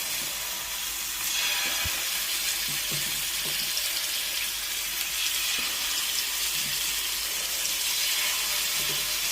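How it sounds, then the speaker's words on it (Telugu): Chicken kebab pieces fry in heated oil, giving a steady, dense hiss and sizzle with a few soft clicks as pieces are set into the pan. "ఆయిల్ వేసేసుకున్న తర్వాత ఆయిల్ కొంచెం హీట్ అయినాక వెంటనే ఇట్లా పెట్టేసుకోవాలి"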